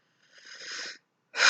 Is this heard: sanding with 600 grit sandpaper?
no